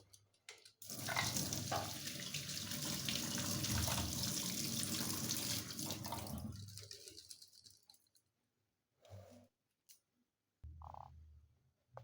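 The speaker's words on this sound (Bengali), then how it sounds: "এবার এতে একটু ঠান্ডা জলটা তাড়াতাড়ি দিয়ে দিলাম, যাতে তাড়াতাড়ি গরম থেকে ঠান্ডা হয়ে যায়" Cold water pours quickly over freshly boiled peas in a strainer at a sink, a loud steady rushing splash lasting several seconds before it stops and a few short clatters follow.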